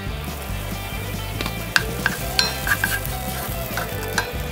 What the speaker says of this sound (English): Then melt some butter in a pan and add your diced onions, minced garlic, Dijon mustard, Worcestershire sauce,